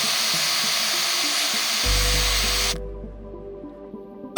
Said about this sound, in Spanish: Lo calentamos con el soplete. Y soldamos el tapón y el tubo de la válvula.